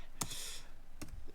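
Two quiet, separate bursts of clicking come from a computer keyboard as a name is typed, with a short pause between them. The sound is faint and close.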